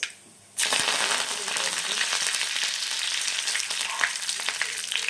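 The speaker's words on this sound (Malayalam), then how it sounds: "കടുക് പൊട്ടി വന്നിട്ടുണ്ട് കേട്ടോ" Mustard seeds spluttering in hot oil, a dense steady crackle and sizzle with scattered sharp pops, close and continuous after a quiet start.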